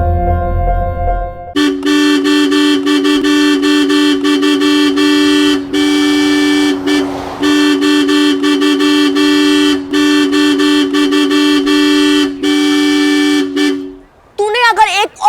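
A car horn blares loudly in long sustained honks, broken by short gaps, repeated for over ten seconds.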